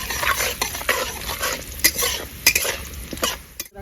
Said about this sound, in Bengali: রসুনটা আমার একটু ভাজা হয়ে গেছে এবার আমি একটা তেজপাতা দিয়ে দেবো আর দিয়ে দেবো ডালচিনি লবঙ্গ ছোটো আলে আর তখন ভেজে নেবো